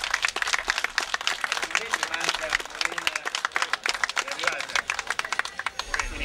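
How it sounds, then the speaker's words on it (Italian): An audience applauds at an evening award presentation for a running race event in Abruzzo, loud, close, rapid clapping from many hands, with voices mixed in beneath. "Un applauso."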